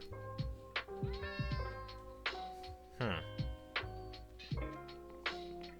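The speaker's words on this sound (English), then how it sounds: "That's a cat. I don't know where he came from." A cat in a Minecraft world meows repeatedly, a string of short game meows mixed with other clicks and tonal game sounds, fairly close and continuous.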